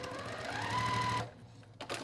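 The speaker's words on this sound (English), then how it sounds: "So I am going to sew this seam." A domestic sewing machine runs steadily while stitching a quilt seam, a fast even mechanical whir for over a second, then stops abruptly, leaving quiet with a few faint handling clicks.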